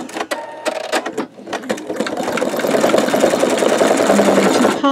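An embroidery machine stitches out a bumblebee quilt block with a rapid, steady mechanical chatter that starts in short bursts and then settles into continuous close-up stitching.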